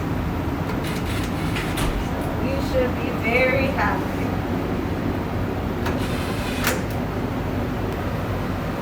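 A gas furnace draft blower runs as a steady, broadband whooshing hum after the burners light, continuous and fairly loud, with a person talking over it.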